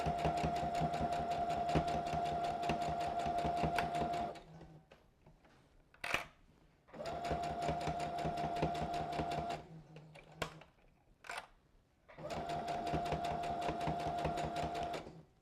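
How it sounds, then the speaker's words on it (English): A sewing machine stitches a pillow in three long runs of steady, buzzing whir, each separated by pauses filled with small clicks and handling noises. "All right, so here I am right before the hole, and I'm going to start sewing"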